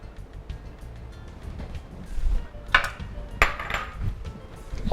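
Egg biryani is mixed in an Instant Pot, with utensils clanking and scraping against the metal pot in irregular bursts, the loudest knocks near the end.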